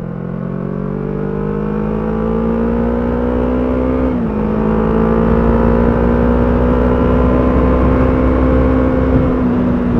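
A Yamaha R25 250cc motorcycle being ridden, its engine droning steadily close up with a strong even hum that dips briefly mid-way and then holds a sustained, slightly rising tone, no voices.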